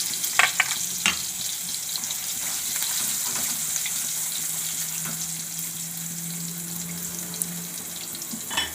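Asafoetida hits hot oil in a pan for a cauliflower and peas gravy curry, producing a steady close sizzle with a few sharp clinks and stirring scrapes, no voices.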